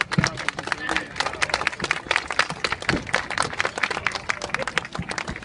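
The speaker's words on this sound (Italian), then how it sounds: "Un applauso." A crowd applauds at a carnival ceremony in Savona during the handing back of the city keys, sharp uneven claps with a lively outdoor bustle throughout.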